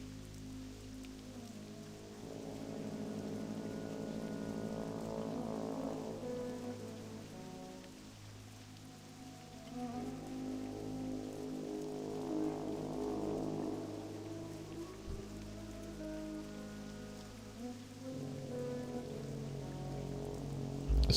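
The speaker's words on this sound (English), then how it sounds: "It's a very, very rainy day in the wetlands. I don't think I've ever seen it rain with this kind of intensity." Heavy, steady rain pours down in the Wetlands zone of World of Warcraft Classic, a dense continuous downpour with soft swelling patches and a low ambient music bed beneath, no voices.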